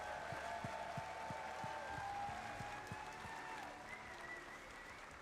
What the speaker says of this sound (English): round of applause to the whole sound team at DE